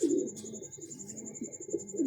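A pigeon coos in low, throaty murmurs close by, a pet or club bird repeating soft rolling calls with a steady high whine running underneath.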